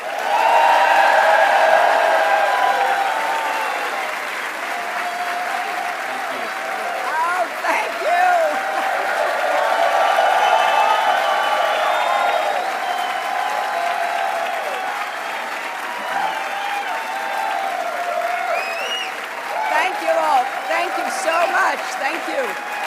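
Sustained audience applause for Hillary Clinton as she reaches the podium at a volunteer event, loud and continuous for the full stretch, swelling near the start, with scattered cheers and voices mixed in.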